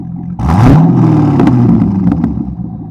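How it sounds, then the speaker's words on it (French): A Chevrolet Corvette C6 with a 6.0 V8 engine revs hard, bursting up loudly from quiet and holding a strong, close, rumbling roar before slowly easing back. "Accélère un bon coup"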